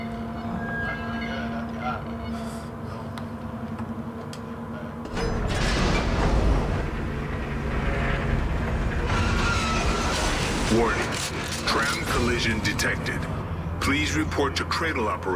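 A tram rolls along its rails in the Dead Space 3 video game, a steady rumbling clatter that swells louder partway through, with metallic scrapes and a sliding-door-like whoosh under occasional voices.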